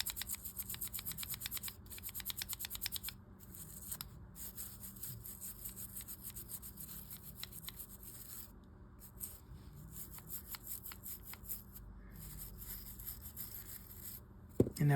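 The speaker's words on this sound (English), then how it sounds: "rotate it around some so that you can get to the other side and scrub it some more" Brush scrubbing a part of a Pflueger Rocket 1355 fishing reel, faint quick rhythmic bristle strokes repeating steadily and close by with a few brief pauses.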